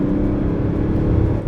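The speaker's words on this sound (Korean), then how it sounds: "자, 급가속 한번 살짝." From inside a Mercedes GLE 400d Coupe diesel SUV, a steady low engine and road drone fills the cabin briefly, with no clear surge.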